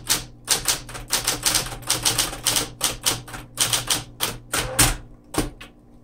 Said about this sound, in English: The return is so strong that it moves the typewriter.